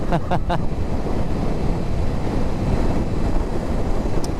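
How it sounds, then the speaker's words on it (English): Strong wind blowing in bad weather outdoors, a steady loud roaring rush buffeting the microphone throughout, with a few brief fainter sounds near the start. "There's a strong wind coming in from the left hand side here"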